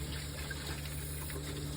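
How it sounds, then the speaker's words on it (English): Steady rushing water flows through the cooling system of a Jeep TJ during a water pump replacement, a continuous gush with a low pump-like hum underneath, close and even throughout. "we're just going to run out some water through there until it's nice and clear"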